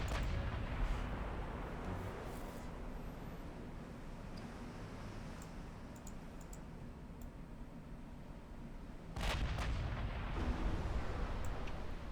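Naval gunfire in the warship game Ultimate Admiral Dreadnoughts, with a battlecruiser's big guns sounding as steady rumbling booms under a dense roar, then a heavier burst of firing near the end, with no talk.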